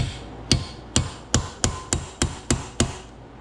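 A hammer strikes a chisel against the cast body of a Jaguar MKII water pump in eight sharp, evenly spaced metallic blows, close and clear with no talk.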